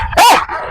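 A German Shepherd or Rottweiler in protection training against a decoy gives one sharp, loud, close bark, brief and standing alone.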